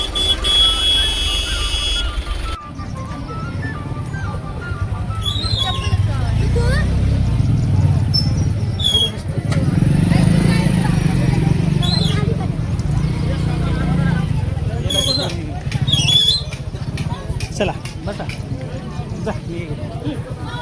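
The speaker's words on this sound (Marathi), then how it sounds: "खूप गर्दी आहे इकडे गाड्याच्या गाड्या लागलेल्या आहेत" A busy temple on a Tuesday is crowded with people and packed with vehicles. Loud, dense crowd babble mixes with engine rumble, horn toots and clattering, and someone talks close by over the din.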